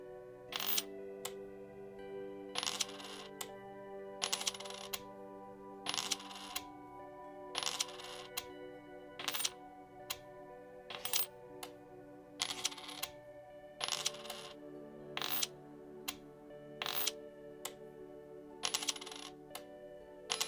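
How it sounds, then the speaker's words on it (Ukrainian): Coins being slotted into place one by one in the puzzle game A Little To The Left, a steady series of crisp metallic clicks and clinks over a soft, quiet background tone. "Перший варіант, який ми будемо робити, це просто розкласти усі монети на свої місця."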